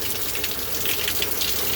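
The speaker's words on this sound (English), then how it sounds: "Then this has another cup inside that I lift it up out of it and let the water drain" Water trickling and draining out of the inner cup of an orchid pot, a steady close splashy flow that continues evenly with no talking.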